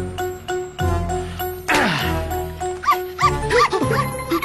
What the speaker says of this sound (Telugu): కుక్కను తెచ్చావేంట్రా?